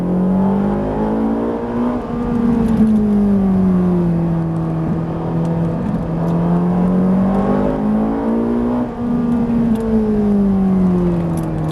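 Ferrari 458 Italia V8 revving on a race track at Haute Saintonge, engine note rising and falling through gear changes in a loud, continuous howl, close up throughout.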